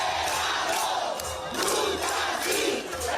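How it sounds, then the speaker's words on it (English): A large crowd cheers in the streets of San Juan, Puerto Rico, celebrating the governor's resignation, with sustained roaring and shouting from many voices and swelling waves of jubilation. "Puerto Ricans cheer as the governor resigns."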